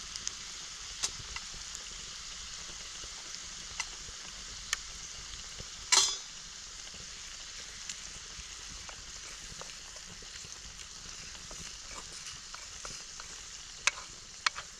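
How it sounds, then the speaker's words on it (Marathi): Red chilli powder sizzling in hot oil for a phodni tempering in a pan, a steady soft frying hiss throughout with occasional small pops and one sharper crackle partway through, no talking. "तर आपली आता फोडणी तयार झाली."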